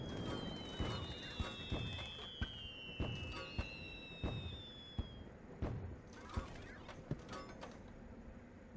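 Fireworks burn in a fireplace in the video game Little Inferno, giving off whistling fizzes and a string of sharp pops and crackles over a crackling fire background.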